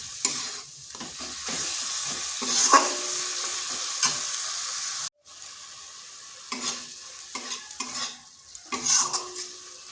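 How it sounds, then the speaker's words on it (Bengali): Masala with melted tomato being stirred and fried in a kadai, a steady close sizzle with repeated scraping stirs of the spoon against the pan, briefly pausing partway before the frying resumes. "দেখুন মশলাটা কষতে কষতে টমেটোটাও গলে গেছে।"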